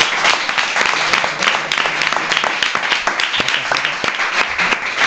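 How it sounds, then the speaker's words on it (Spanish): A television studio audience breaks into loud, sustained applause welcoming a guest to the show, dense clapping that stays even throughout. "Recibimos con un fuerte aplauso a Toño Fraguas."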